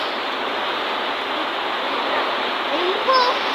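Overflowing river in Barangay Sto. Niño, San Mateo, Rizal, rushing as a steady broadband roar of water, close and continuous, with a faint whistle-like tone near the end.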